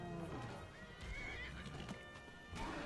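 Horses in the video game Skyrim neigh and whinny loudly, with clip-clopping hooves beneath, the calls rising and falling over about three seconds.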